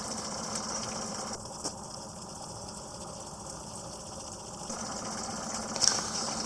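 Boat engine idling while cruising at five or six knots, a steady close mechanical drone with a faint rhythmic knock throughout and no speech.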